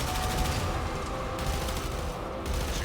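Dense, continuous gunfire and explosions from the video game Warframe form a loud, unbroken barrage of overlapping blasts and rapid shots with no pauses and no talking.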